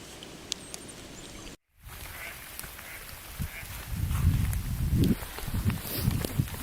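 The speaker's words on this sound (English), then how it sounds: "Flushing ducks." Ducks flush from a pond with quacking, flapping and splashing after a brief gap, the noise growing louder toward the end over outdoor ambience.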